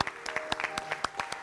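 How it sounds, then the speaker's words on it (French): A studio audience on a French television show claps, a short burst of scattered, fairly faint hand claps with uneven rhythm. "On va applaudir encore très fort"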